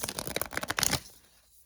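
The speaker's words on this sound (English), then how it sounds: "let me give it some good shuffles" A deck of oracle cards being shuffled by hand, a close, quick run of papery riffling bursts for about a second before fading to quiet.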